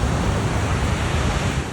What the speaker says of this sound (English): I was shocked with how loud the waves were.